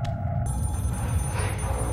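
A telephone rings in the Scream horror video game, a steady electronic bell tone layered over dense low ambient rumble, with no talking.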